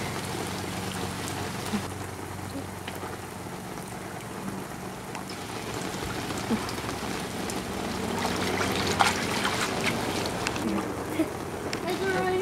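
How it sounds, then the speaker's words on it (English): Rain falling outdoors by a cold pool, a steady broadband hiss and patter that runs throughout and swells slightly toward the end, with people talking over it. "Yeah, it's raining."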